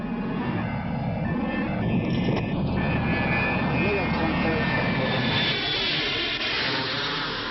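A jet aircraft in flight gives a steady, loud engine roar that holds throughout with little change in level.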